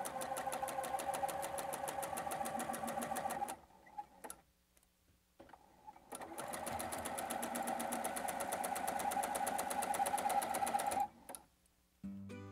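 A sewing machine stitches quilt pieces for a B star runner in two long runs of steady, rapid stitching, split by a short pause and ending in a stop. It sounds close and clear, with no talking.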